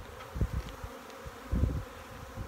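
Honey bees working syrup in feeding totes on a cool day at about 8 degrees give off a faint, close buzzing that swells in short bursts against a quiet background.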